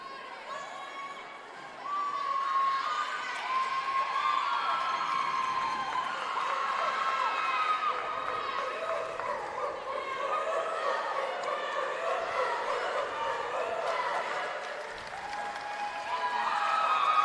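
Crowd of gymnastics teams cheering and applauding one another at a conference event finals, a sustained broad wash of clapping and shouting voices that swells near the end.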